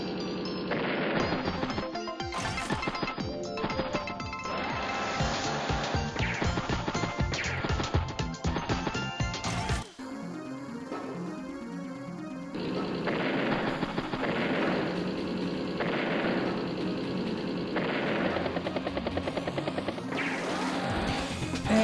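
Battle sounds from Advance Wars: Days of Ruin, where a battlecopter, tank and infantry attack: dense gunfire, heavy impacts and crashing explosions in rapid succession, loud and continuous, then shifting into a steadier game music-and-effects bed.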